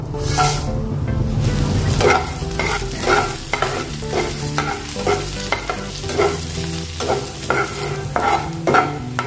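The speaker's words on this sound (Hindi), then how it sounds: "अभी हम लाल मिर्च को तलेंगे।" Cut red chillies frying and sizzling in hot oil while being stirred, a steady close hiss with repeated scraping strokes of the spoon, no talk.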